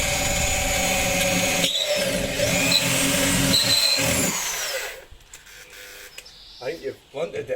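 Power drill boring out a window regulator rivet on a Citroen C4 Grand Picasso, a loud, steady whine running for about five seconds with slight pitch shifts, then stopping before someone speaks briefly.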